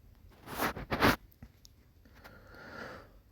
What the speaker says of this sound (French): on prend une paire de ciseaux et on va couper l'excédent